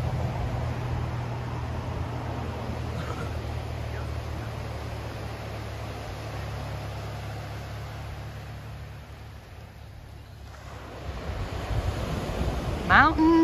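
Ocean surf at Avila Beach, a seaside spot with mountains and fog, makes a steady broad wash with a low hum underneath. The sound eases briefly and then swells again, and gusts of wind buffet the microphone.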